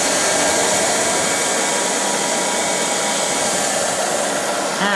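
Ilife V3s robot floor sweeper mopping with its mop pad on the floor, a steady close whirring motor hum with a broad airy hiss running unbroken throughout, no talk.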